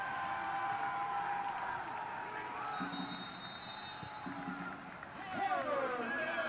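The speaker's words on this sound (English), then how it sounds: "The home crowd showing their appreciation down below" Home crowd at a Birmingham Legion FC versus Indy Eleven soccer match cheering and applauding a goal, a broad distant roar of applause with a commentator talking over it.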